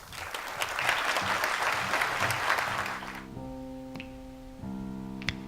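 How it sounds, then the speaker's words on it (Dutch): An audience at the Poëziefeest poetry festival in Knokke breaks into sustained applause that fills the room for about three seconds, then fades out as a keyboard or piano begins playing sustained chords. "Graag jullie applaus voor Frank Adam en Simon de Kuiper."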